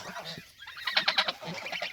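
Geese on a farm give a quick run of nasal honks, several calls close together near the middle, loud and close with softer calling around them.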